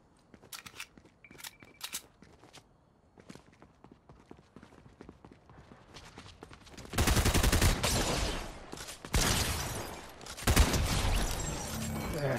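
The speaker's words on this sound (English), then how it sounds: "There's that pump shotgun." Loud, booming pump shotgun blasts in Fortnite come in a few heavy bursts after a stretch of quieter clicks and footsteps, close and dominant in the mix.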